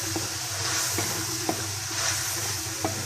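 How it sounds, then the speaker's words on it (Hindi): Mash dal lentils tumble into sizzling masala in a pan, a soft steady hiss broken by a few light clinks of a spoon stirring at an even pace, close and fairly quiet. "अब हम इसमें दाल शामिल करेंगे।"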